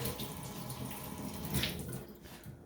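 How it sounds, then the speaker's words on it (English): Hands rinsed under a running kitchen tap while cooking boneless beef short ribs: a steady, close splash of flowing water for a few seconds, easing off slightly at the end. "I'm going to just rinse my hands real quick"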